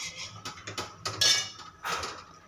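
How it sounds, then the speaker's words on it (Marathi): Utensil clinking and scraping against a pot while patwadi rassa is stirred, with several short metallic chinks in an irregular rhythm, close and fairly loud. "आणि व्यवस्थित मिक्स करून घ्यायचं सगळं"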